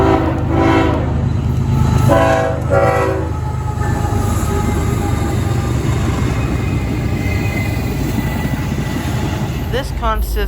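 A train hauled by locomotive 8520 blares its horn in several loud, drawn-out blasts, then rumbles steadily past nearby with a heavy rolling roar.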